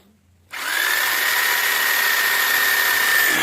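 A power saw starts abruptly and cuts an aerated concrete block steadily with a loud, high-pitched whine and gritty grinding, running continuously close by.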